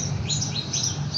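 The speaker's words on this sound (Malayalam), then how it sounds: "കിളികളുടെ ശബ്ദങ്ങളും എല്ലാം ഇന്നത്തെ വീഡിയോയിൽ കേൾക്കാൻ പറ്റും" Birds chirp and tweet outside a villa in Abu Dhabi on a windy day, with short, moderately faint calls repeating over a steady low rumble of wind.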